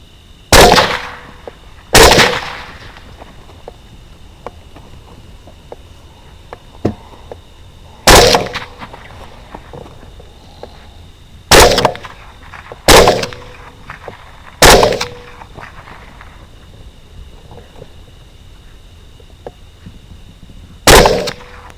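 Rifle shots fired at wild hogs during an outdoor hunt: about seven loud, sharp reports spaced irregularly across the clip, each ringing briefly, with quiet ambience between them.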